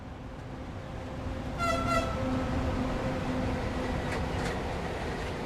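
A Vectron freight locomotive in a train simulator game set in Austria hums steadily with a low rumble, a brief two-tone horn blast near the middle and faint distant toots later, no talk.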